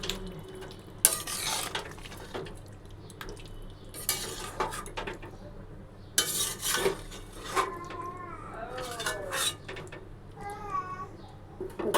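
Jackfruit curry being cooked and stirred in a pan, with a utensil scraping and clattering against the metal in intermittent bursts, close up, and brief voices in the background.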